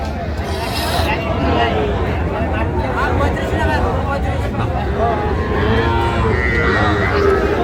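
Cattle, including Sahiwal heifer calves, low and moo at a busy livestock market in Cumilla, loud and close, over steady crowd chatter and babble, with people talking nearby.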